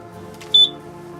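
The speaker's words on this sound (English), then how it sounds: "The beeping that you hear right now is actually from the scanner." A single short electronic beep from a motion scanner at a facility, sounding once for about a tenth of a second over a low steady background hum.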